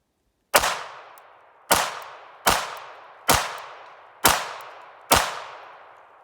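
Six sharp shots from a Ruger LCP MAX .380 pistol fired left-handed, spaced roughly evenly about a second apart, each a loud crack with a fading echo tail, outdoors and without talk.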